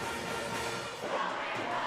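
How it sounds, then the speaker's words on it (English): A rowdy crowd at a Class C2-7 district final high school basketball game, Gordon-Rushville against Clarkson/Leigh, roars and cheers in a dense, sustained wash of voices that swells slightly partway through. "Rowdy fans, rowdy crowd."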